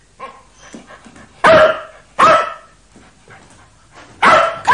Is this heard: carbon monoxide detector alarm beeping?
no